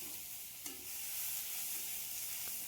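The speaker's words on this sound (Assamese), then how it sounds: "এতিয়া নহৰু অলপ ভাজি লৈছোঁ।" Garlic fries in hot oil, giving a steady, close sizzle with a couple of soft clicks from the stirring spoon, continuous and alone without any voices.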